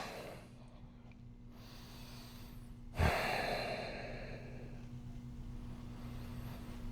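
Slow, audible breaths while holding a yoga hip stretch, soft inhales and exhales close by over a low hum, with one louder breath partway through.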